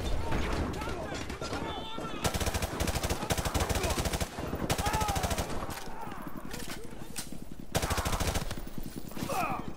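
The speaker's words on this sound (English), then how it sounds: "We're taking heavy fire from the school." Rapid automatic gunfire and explosive bursts from a Call of Duty Modern Warfare firefight near a school, loud and nearly continuous with brief pauses, under overlapping shouted talk.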